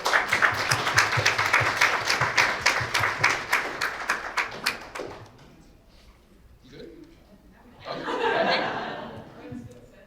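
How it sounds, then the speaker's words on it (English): Panel audience applauding for the panelists at an event on online hate, dense clapping for about five seconds that fades out, followed by a brief burst of chuckling and crowd murmur. "another round of applause and thank you for all of our panelists"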